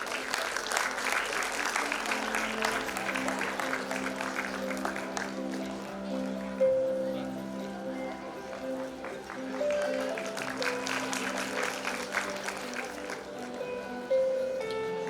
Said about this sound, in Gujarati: આપણે તાળીઓથી વધાવીએ